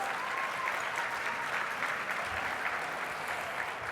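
An event audience applauding sponsors at an awards gathering, steady sustained clapping from a large crowd throughout, fairly distant and even, with no speech over it.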